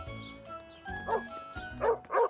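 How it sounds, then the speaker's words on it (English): Cartoon dog barking angrily, a few sharp gruff barks and yips building to two louder bursts near the end, alone without talk. "The dog sounded angry."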